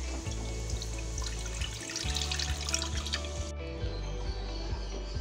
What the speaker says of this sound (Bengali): এই 500 ml দুধটা এর মধ্যে আমি আস্তে করে ঢেলে নেব